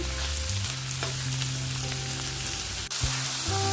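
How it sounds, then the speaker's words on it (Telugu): Sliced onions sizzle and fry in hot oil while being stirred, a steady close crackle with scraping stir strokes, no voices. "మనం కట్ చేసి పెట్టిన ఉల్లిగడ్డలు అయితే అన్నీ వేసుకోవాలి ఉల్లిగడ్డలు అన్నీ వేసుకున్న తర్వాత ఒకసారి మంచిగా ఆయిల్ కలిసేటట్లు కలుపుకుందాం"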